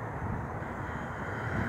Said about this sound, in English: there's a plane right there.